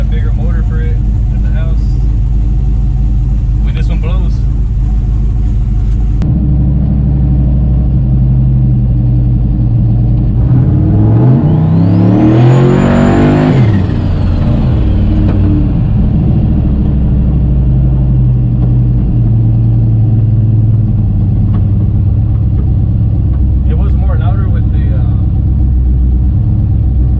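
A Chevy OBS truck with a turbo build accelerates, its steady low engine drone swelling into a loud rising rev and spool around the middle, then settling back to a cruising rumble, with people talking in the cab throughout.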